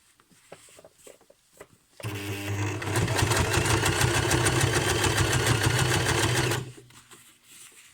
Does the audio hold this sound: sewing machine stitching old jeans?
yes